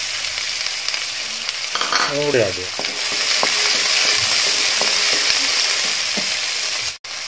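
Chopped onion hitting hot oil with mustard seeds, a loud, close, continuous sizzle that swells and holds steady; a brief voice speaks over it near the start.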